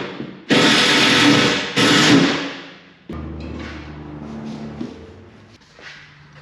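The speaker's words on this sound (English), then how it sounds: "what I'm doing now is I'm pre-drilling and then run these panhead self-tapping screws in to hold all the sheet metal up" Power drill pre-drilling holes in sheet metal on a box truck: two loud, close bursts of high whirring and grinding, then quieter motor hum and clunks as the work continues.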